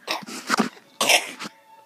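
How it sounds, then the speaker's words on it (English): A young child coughs in a few short, close bursts, two quick clusters of rough, throaty hacks separated by brief pauses. "Not too much laughing and coughing now."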